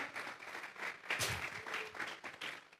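Congregation clapping together in a church service, a steady broadband patter of many hands lasting throughout, fairly close and moderately loud with no talking over it.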